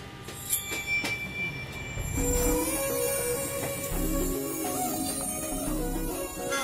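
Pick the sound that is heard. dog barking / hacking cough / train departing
train departing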